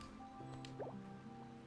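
Water dripping from a water source in Genshin Impact, a few soft, faint drips and squishy droplets over a quiet, steady ambient hum.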